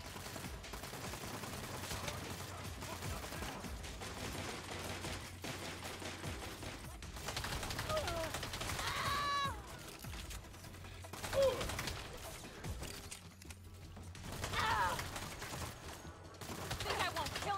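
Saints Row video game gunfire as snipers pin down the player, scattered faint shots and clattering bursts over a quiet battle background with occasional distant voices.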